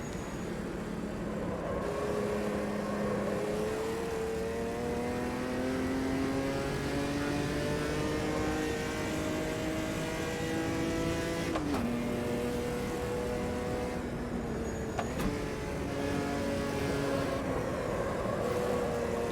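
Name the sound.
race car engine in the video game Automobilista 2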